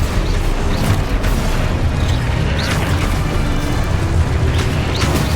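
Hogwarts Legacy video game spell explosions: loud, dense, continuous booms and blasts with rumbling low end, overlapping one another steadily throughout.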